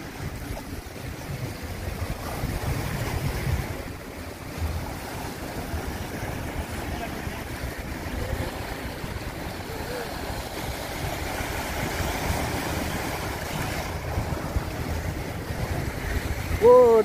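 Sea waves wash continuously along the Jeddah coast in Saudi Arabia, a steady broadband surge with wind buffeting the microphone throughout and no pause in the surf.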